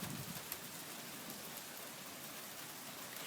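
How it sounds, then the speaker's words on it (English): Rain and hail fall during a thunderstorm, a faint, steady broadband hiss with tiny scattered ticks of impact and no voices. "I see hail, man."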